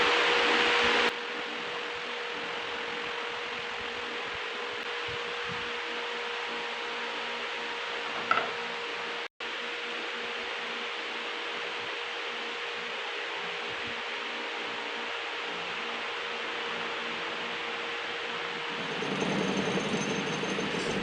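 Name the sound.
lathe vibrating against workbench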